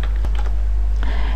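Keys on a computer keyboard are tapped in a few quick, light clicks over a loud, steady low electrical hum.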